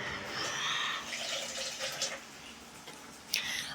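An old LG 5 kg front-loading washing machine, model WD-80150NUP, partway through a wash cycle: a steady splashing, sloshing water sound with a few brief clunks, close and fairly loud.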